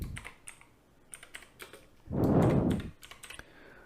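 Quick bursts of computer keyboard typing as a name is entered, with rapid clicky keystrokes in short clusters and a brief louder clatter midway, close and clear.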